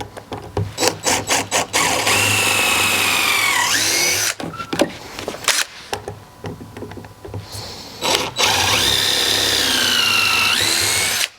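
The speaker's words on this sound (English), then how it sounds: "take my drill bit, and start putting those holes through" Power drill boring holes through trim ring pieces for a van capsule build: two long, loud whining passes with rising and falling pitch, separated by clicks, taps and brief handling noises.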